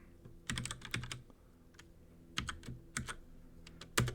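Computer keyboard keys clatter in several quick bursts of typing while code is being written, with short pauses between bursts, close and moderately loud with no talking.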